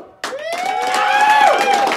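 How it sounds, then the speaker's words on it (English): Studio audience bursting into loud clapping and cheering, with a sustained whoop riding over the applause for about two seconds after a sudden start. "They're clapping."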